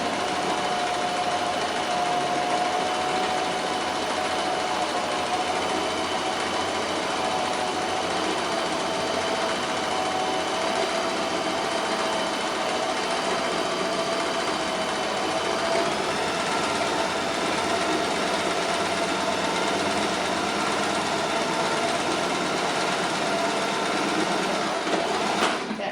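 A sewing machine runs continuously and close for nearly half a minute while back stitching a seam, a steady mechanical whir with no voices over it.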